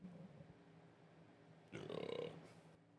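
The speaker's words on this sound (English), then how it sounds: "That ghost burped" A single drawn-out burp erupts after a quiet stretch, lasting under a second with a rough, gurgling tone, fairly close and standing alone without talk over it.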